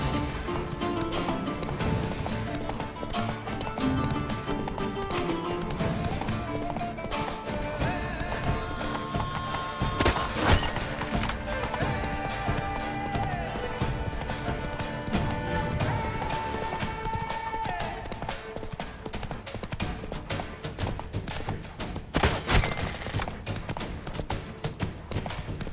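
Galloping horse hooves from The Witcher 3 keep a steady clip-clop rhythm through a dense game soundscape with music, with a few louder crashes along the way.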